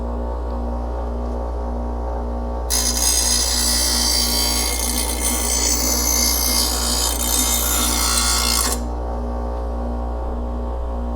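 A blade is held against a spinning Wen bench grinder wheel, giving a bright, steady grinding hiss for several seconds over the motor's constant hum. Then the contact ends and only the hum remains.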